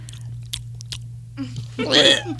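Close-up chewing and mouth noises picked up by a podcast microphone, scattered wet clicks then a louder crunchy burst, with speech around them.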